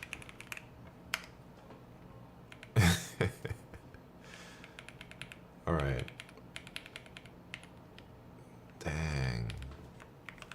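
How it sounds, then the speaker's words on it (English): Rapid keystrokes on a computer keyboard during a competitive typing event clatter steadily beneath brief spoken remarks, with a few louder bursts of voice and commotion breaking in. "That is some of the craziest typing I've ever seen."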